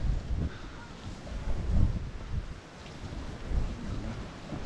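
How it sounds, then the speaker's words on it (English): Strong wind gusting along a Magaluf beachfront in Mallorca, with palace flags being shredded and flapping. The wind roars and buffets the microphone in low rumbling surges, rising and falling steadily throughout, with no talk. "the wind is just shredding their flags"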